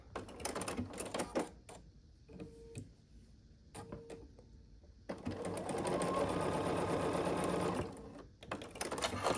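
Sewing machine stitching pumpkin quilt pieces with a quarter-inch foot, short bursts of clattering needle action early on, then a steady, sustained run of close, loud stitching lasting a few seconds before stopping.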